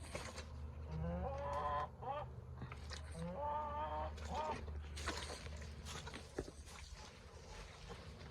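Backyard chickens clucking in a garden, a series of short harmonic calls around a rooster-like cry, over mechanical creaks and low rumble, with a voice and other sounds in the background.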